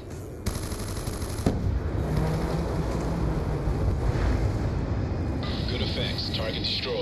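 An A-10 Warthog makes a strafing run in Black Ops 2 on the Slums map, loosing a rapid, grinding burst of cannon fire over gusty background noise, followed by sharp impacts and a lingering rumble.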